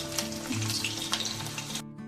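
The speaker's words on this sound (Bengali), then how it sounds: "তেল গরম হয়ে গেছে, এই তেলের মধ্যে আমি আলুগুলোকে ভালো করে ফ্রাই করে নেব।" Diced potatoes sizzle and fry in hot mustard oil in a kadai, a steady close crackle with a few small spatters, cut off abruptly near the end.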